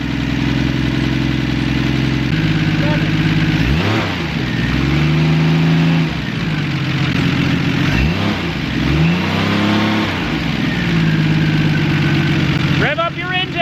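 A classic Mopar car engine runs after a starter repair, idling loudly up close with several revs rising and falling in repeated swells, while people talk over it.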